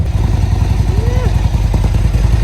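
A Harley-Davidson CVO motorcycle engine runs with a steady, loud low rumble throughout, while people talk nearby over it.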